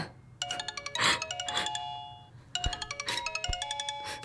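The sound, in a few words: phone ringing with an incoming call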